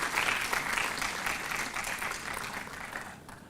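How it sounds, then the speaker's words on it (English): Conference audience applauds honored guests at an international workshop, a dense, sustained burst of clapping from a sizeable crowd that tapers slightly toward the end. "A very big round of applause to them for having accepted to be with"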